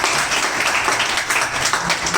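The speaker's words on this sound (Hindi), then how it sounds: "तो मैम के लिए एक बार जोर से ताली बजाएं।" A crowd of students at a coaching institute's first-anniversary event applauds the teacher, dense steady clapping throughout at moderate distance with no voices over it.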